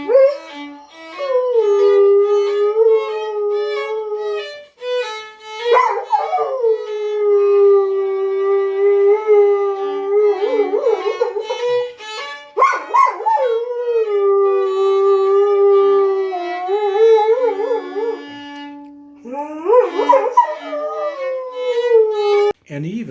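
Domino the dog howls and sings in long, wavering, melodic tones that rise and fall, with a few short gaps and yips between the phrases, close and clear for over twenty seconds.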